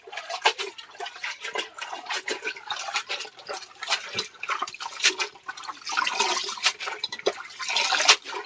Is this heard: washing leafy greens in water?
yes